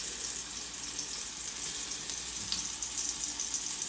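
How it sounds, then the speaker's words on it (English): Pieces of fish fry in a frying pan with a steady, close, dense sizzle and crackle that carries on evenly throughout, with no voices. "placing it in the frying pan or skillet, whichever you want to refer to it as"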